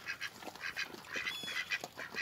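Ducks quack repeatedly in a lively, overlapping chorus, fairly close, with no talking.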